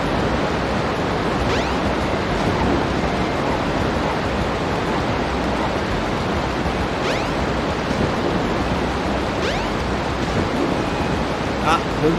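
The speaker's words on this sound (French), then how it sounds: "Oh, le bruit de la cascade est terrible." A roaring waterfall in the Sonic Adventure DX video game: a loud, steady wash of noise that holds unchanged from start to finish.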